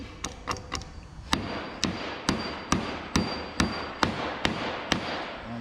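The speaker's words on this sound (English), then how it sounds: "he can go ahead and nail his pieces off" Nails are driven into a 2x4 wedge jig with a hammer, a run of sharp, evenly spaced strikes, about a dozen crisp knocks at a steady rhythm, close and clear with no talk.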